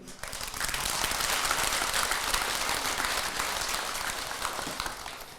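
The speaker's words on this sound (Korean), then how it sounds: "박수 한번 쳐드려" Temple audience at a Buddhist dharma talk claps for families attending together, applause swelling quickly after a quiet start and holding as a dense, steady patter before tapering slightly.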